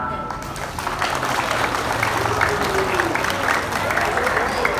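Students applaud at a Monday school flag ceremony at an Indonesian madrasah, a steady, dense outdoor clapping crowd sustained for the full span with voices mixed in.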